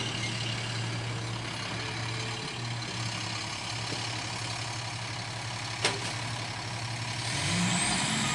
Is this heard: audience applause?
no